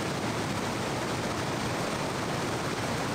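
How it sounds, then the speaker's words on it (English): Waterfall in the video game Indiana Jones and the Infernal Machine, a steady, dense roar of rushing water, loud and unbroken throughout. "I hope this sound of all of this water isn't too loud"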